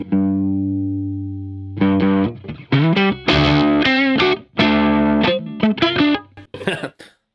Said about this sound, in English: what you're hearing is that natural distortion from just pushing the front of the amp